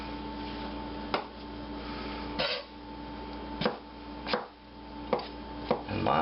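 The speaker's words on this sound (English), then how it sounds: "It's time that I go ahead and get these peppers cut up." A knife slices sweet peppers on a cutting board, about six crisp, separate chopping taps spaced roughly a second apart, close and clear over a quiet background hum.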